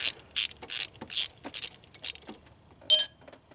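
A ratchet wrench loosens a bolt during a Grand Am engine teardown, making close, crisp bursts of clicking separated by short pauses.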